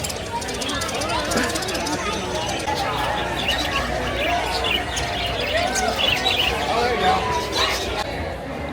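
Bird at a Maryland State Fair petting area giving thin chirps and tweets amid a dense crowd babble and chatter, with people talking nearby throughout.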